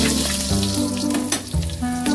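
Garlic hits hot oil in a pan for chicken liver adobo. The sizzle is short, bright and fairly loud, with prominent melodic background music playing over it.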